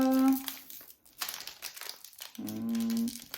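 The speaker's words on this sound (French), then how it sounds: "Allez, on attaque le premier booster de ce nouveau coffret. S'il veut bien s'ouvrir." A Pokémon card booster pack wrapper being torn open, with short bursts of crinkling plastic foil up close and a humming voice at the start and end.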